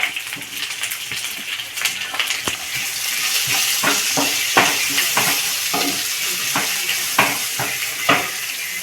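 Onions for masala dosa filling sauté in a pan, a steady close sizzle with repeated scraping strokes of a spatula stirring them, with no talking.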